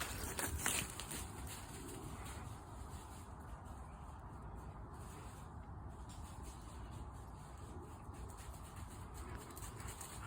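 A dog whimpers and pants softly through a steady outdoor background during a break for a drink, with no talking heard.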